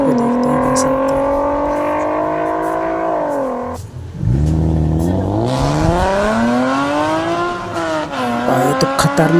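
Toy BMW car engine revving: a loud, whining engine note climbs steadily, drops off briefly, then surges back up and sweeps down and up again, with a tire-squeal edge, close and unaccompanied.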